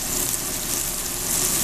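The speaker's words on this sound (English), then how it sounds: "then chops is sizzling" Veal chops sizzle in a hot pan about four minutes into cooking the first side, a constant loud crackling hiss of frying fat close up, with no voices.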